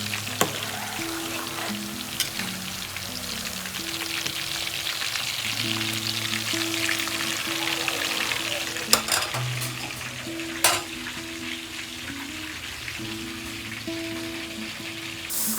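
Chicken keema balls frying in a pan, with a steady dense sizzle throughout and occasional scraping stirs and clinks of a utensil against the pan, close and loud with no talking.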